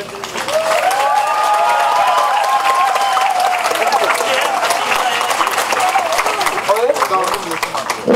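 Loud, sustained applause from a large crowd at an outdoor election campaign speech in a square, with a Korean voice carrying over the clapping throughout.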